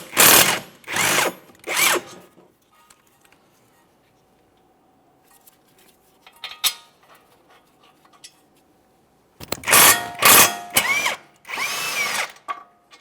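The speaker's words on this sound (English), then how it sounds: "we're going to start removing the caliper bracket bolts." A power tool, likely an impact driver or drill, works the caliper bracket bolts on a 2014-2019 Toyota Corolla front brake in three loud bursts, then a long near-silent gap with faint clicks, then several more loud bursts.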